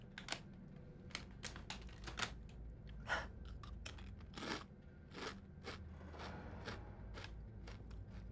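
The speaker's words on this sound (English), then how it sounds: "I'm eating Doritos." Someone crunches Doritos tortilla chips in a run of sharp, uneven bites, each a crisp broadband snap, heard close over a low steady background hum.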